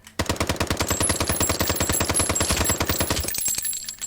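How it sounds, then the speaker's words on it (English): Rapid automatic assault rifle fire in the Triton VR shooter game, a steady loud burst of evenly spaced shots lasting several seconds, with faint tinkling of ejected shell casings, then stopping abruptly. "if you listen closely, you will actually hear the shell casings."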